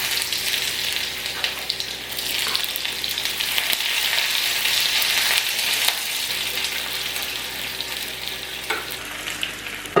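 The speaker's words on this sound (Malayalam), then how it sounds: "ഇനി ഇതിലേക്ക് കുറച്ച് ഉള്ളി അരിഞ്ഞതും 2 തണ്ട് കറിവേപ്പിലയും കൂടെ ചേർത്ത് കൊടുക്കാം." Chopped onion and curry leaves fry in hot oil for a fish head curry, giving a loud, close, steady hiss and crackle with occasional stirring scrapes and no voices.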